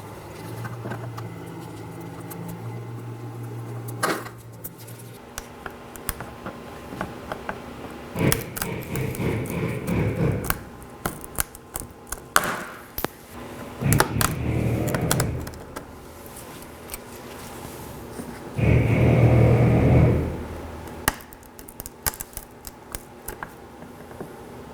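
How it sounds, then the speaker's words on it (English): Plastic bumper cover clips on the front bumper of a 2013–2019 Nissan Sentra being pried out with a trim tool: a run of close, irregular clicks, snaps and scraping, with a few louder bursts of pulling and rattling. "Now I'll be removing these with the trim tool"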